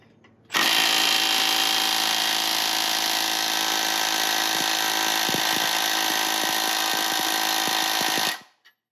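Milwaukee M12 and M18 3/8-inch cordless impact wrenches hammer steadily on a stubborn fastener clamped in a vise, a loud continuous rattling whir lasting about eight seconds before cutting off abruptly.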